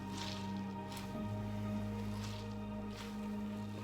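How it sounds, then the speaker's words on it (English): Wet, soft squishes as grated potatoes for latkes are wrung out by hand, with a few faint drips, all over a steady low hum. "you really want to squeeze out that water"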